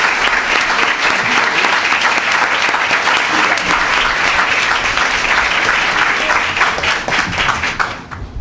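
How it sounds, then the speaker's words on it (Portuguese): Sustained, loud audience applause closes a lecture at the Rio de Janeiro State Public Defender's Office, a dense wash of many hands clapping steadily for over eight seconds, thinning slightly at the very end. "peço uma salva de palmas para esses craques"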